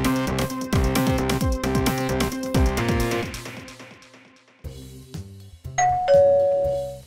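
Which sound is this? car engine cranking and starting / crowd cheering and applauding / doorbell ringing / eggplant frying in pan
doorbell ringing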